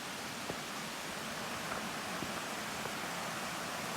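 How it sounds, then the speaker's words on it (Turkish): A stream flows around both sides of a tree standing in the middle of the water in the Kaz Mountains, giving a steady broadband rushing wash with a few faint knocks, and no talk over it. "Sağından sonundan dere akıyor."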